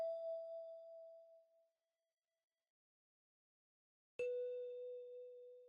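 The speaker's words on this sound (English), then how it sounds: "Then next I added these bells." Bell tones in an R&B trapsoul beat: one sustained chime fades over about a second and a half, then after a silent gap a second, brighter bell strikes sharply and rings on, clean and alone.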